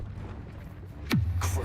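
A Confringo blasting spell goes off in a Hogwarts video game, a single sharp whooshing burst that drops into a low rumbling boom, followed by a brief bright crackle, over a steady low hum.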